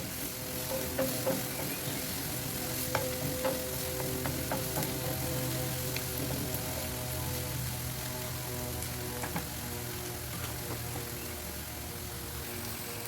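Onions frying in a pan, an even crackling sizzle like light rain on a surface, with occasional soft stirring taps, close and steady the whole time.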